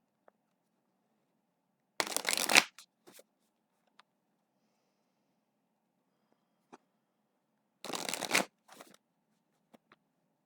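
Tarot cards being shuffled and drawn for a reading, heard as two separate riffling bursts a few seconds apart, close and fairly crisp, with faint small taps and card handling in between and no talk.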